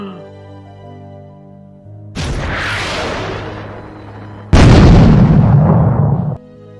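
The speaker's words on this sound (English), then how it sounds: "He just shot him with the rocket launcher." A rocket launcher fires in a Roblox game, two loud booming blasts in quick succession, each a sudden burst with a rushing, crackling tail that stops abruptly, the second heavier and closer.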